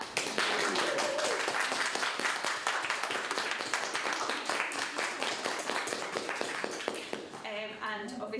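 Theatre audience applauding at the close of a panel session, a dense sustained burst of many hands clapping close and loud, fading near the end as voices begin to speak.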